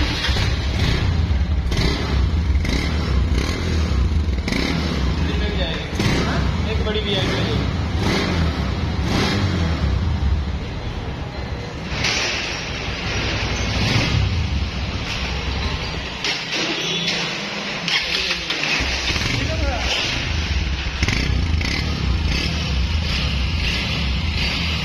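Motorcycle engine fitted with a newly installed PZ30 carburetor, running loudly and close with repeated throttle blips and revs, a steady rough idle between, easing briefly midway before picking up again.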